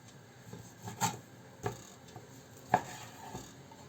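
A knife cutting meat for cutlets on a board, with a few separate close knocks and soft scraping sounds spaced out against a quiet room, and no talk.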